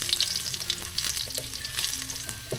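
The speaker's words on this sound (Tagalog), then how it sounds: "So igigisa ko muna siya at magluluto ako ng sardinas na ginisa na may itlog." Garlic sautés in a hot pan before sardines and egg are cooked, giving a steady close crackling sizzle with stirring scrapes throughout and a few faint tonal hums in the background.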